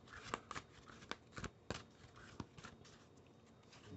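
Tarot cards shuffled by hand give off soft, irregular riffling snaps and rustles. The bursts are quiet, close and sporadic, with no talk over them.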